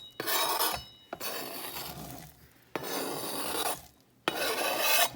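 Chopped chocolate is scraped with a knife into a pan for a chocolate pie filling, several rasping strokes in quick succession separated by brief pauses, close and fairly quiet.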